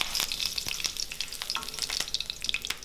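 Bay leaf, cinnamon, cloves and cardamom sizzle in hot oil as the base for a mushroom gravy: a steady, close crackle with scattered sharp pops throughout, no voices.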